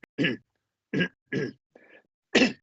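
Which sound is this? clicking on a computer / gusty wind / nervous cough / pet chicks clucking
nervous cough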